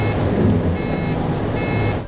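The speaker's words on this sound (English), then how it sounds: "First, the driver hears a beep," Daimler Inspiration truck's Highway Pilot system warning sounds as repeated electronic beeps, three evenly spaced tones over a steady loud cab and engine rumble.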